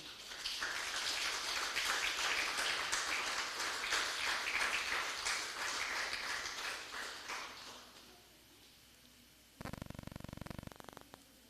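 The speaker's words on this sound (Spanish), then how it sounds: "Dale un fuerte aplauso al Señor, aleluya." A church congregation claps loudly and steadily for about seven seconds during a service, then the clapping fades out into quiet, followed by a short burst of a different, harsher sound near the end.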